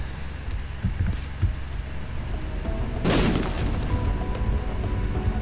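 A bomb goes off in The Binding of Isaac: one loud, broad blast about midway that rings out over steady game ambience and music, after scattered softer thumps.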